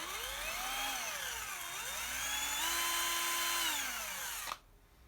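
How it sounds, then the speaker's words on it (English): A 12-volt Ingco cordless drill bores a hole, its motor whine rising and dipping in pitch as load changes, loud and steady for about four and a half seconds before stopping abruptly. "It's a 12-volt ingco cordless drill."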